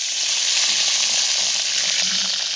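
Dried Bombay duck fish (loitta shutki) frying in hot oil with whole garam masala and bay leaves on a clay stove, giving a loud, steady, close sizzle with no pauses.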